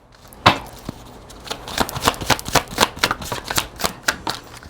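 A deck of spiritual animal oracle cards is shuffled by hand close up, giving a quick run of crisp, rhythmic card slaps and riffles that builds steadily with no talking.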